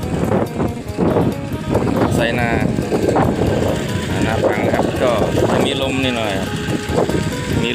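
Strong wind sweeping across open rice fields, buffeting the microphone in a constant rough rush beneath steady close talking.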